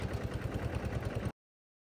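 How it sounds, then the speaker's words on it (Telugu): A tractor's diesel engine chugging in uneven, rapid pulses, sputtering close by for about a second before cutting off abruptly into silence. "కొమనపల్లి బ్రిడ్జ్ క్రాస్ చేయగానే ట్రాక్టర్ అయితే బెక్కులు పెట్టడం మొదలుపెట్టిందండి"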